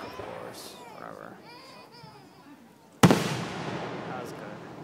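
A single outdoor fireworks burst, a sharp loud bang followed by a crackling, decaying tail, after children's voices and chatter.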